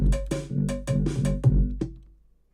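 A few sharp metallic cowbell hits from a music software sample play in a short syncopated pattern, bright and dry, with the last strike ringing out briefly.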